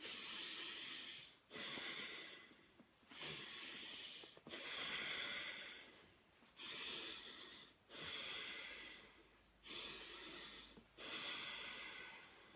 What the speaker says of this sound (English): we're going to belly breath, so breathing in.